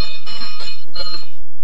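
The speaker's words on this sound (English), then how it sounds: "let's hear you ring the bell" A bell rung by hand in a street scene, several quick bright clangs in a short burst, loud and close with ringing overtones and no talk.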